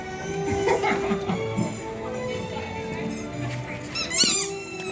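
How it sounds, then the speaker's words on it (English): Small rubber ducks give a series of short, high squeaks, scattered and uneven, with louder squeezes near the end, mixed with chatter and laughter close by. "Tiny little rubber duck. They do squeak, they do squeak."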